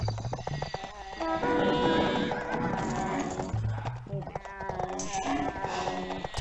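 A horse neighs with a drawn-out whinny over rapid clip-clop galloping hooves in an Age of Empires-style real-time strategy match, mixed with busy game effects and commentators talking throughout.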